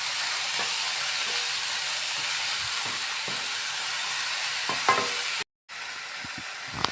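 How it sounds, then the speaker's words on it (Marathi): Vegetable filling for veg momos frying in a pan, a steady loud sizzle running almost unbroken with a few soft scrapes, cutting out briefly near the end before resuming. "फ्राय करून घ्यायचं आहे"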